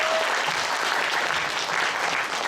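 Audience at a Korean college health administration department ceremony applauding after a department introduction, steady dense clapping from a sizable crowd throughout, fairly loud and uninterrupted by speech.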